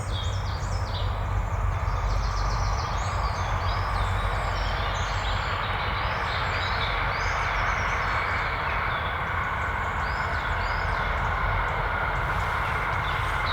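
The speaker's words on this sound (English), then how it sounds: "Quite loud, that train." A passing train heard outdoors in woodland during air rifle squirrel pest control, a loud continuous rumbling roar that stays steady throughout, with faint birdsong on top.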